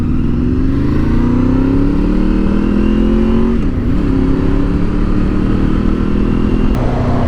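Honda VFR motorcycle engine running steadily on a test ride, a loud continuous drone that rises slowly in pitch, dips briefly midway, then climbs again, with no talk over it.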